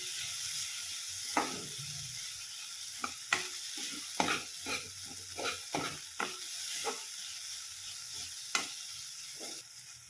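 Grated sweet potato sizzles and fries in ghee while it is stirred, giving a steady soft hiss broken by repeated scraping strokes at close range. There is no talking.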